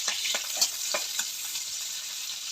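Okra and onions frying in a pan, with a constant hiss of hot oil and a few soft scraping strokes of a stirring spoon.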